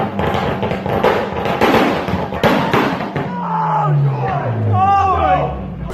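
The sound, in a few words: Nissan 240SX exhaust backfire flames from a BR system, clip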